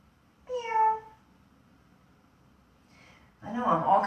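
A person imitates a cat's meow during a cat-cow yoga stretch: a short harmonic mewing call near the start, a quiet pause, then a breathy, noisier vocal sound at the end.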